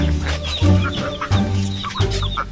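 Chickens cluck and chatter close by on a farm, a busy overlapping flock with no pauses, steady and fairly loud throughout.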